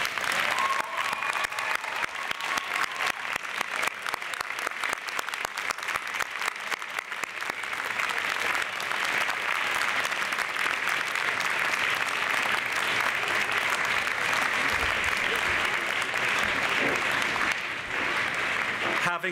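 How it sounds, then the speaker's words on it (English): A graduation convocation audience applauds in a large hall, a dense sustained roar of clapping from many hands that swells and holds steady for a long stretch, with faint voices mixed in. "show your appreciation for the support of your parents, family, and friends by giving them a big round of applause"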